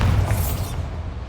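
A Bombarda spell from the game Hogwarts Legacy goes off as a dull, low boom with a brief crackling shatter, rumbling near and loud, then tailing off over about a second.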